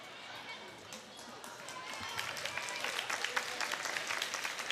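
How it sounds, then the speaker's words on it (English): A high school basketball crowd in a gym breaks into warm, sustained applause with scattered claps and chatter as an injured player makes her way to the bench. "She's going to get a round of applause from the crowd as she's able to make it to the bench"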